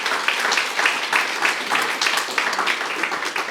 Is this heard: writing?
no